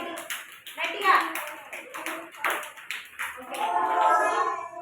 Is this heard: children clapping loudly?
yes